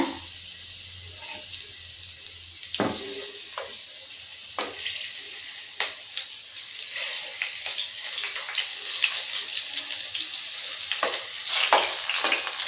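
Ginger and green chillies sautéing in oil for a hill amla pickle, a constant close sizzle with scattered sharp crackles and pops and occasional stirring scrapes throughout, with no voices.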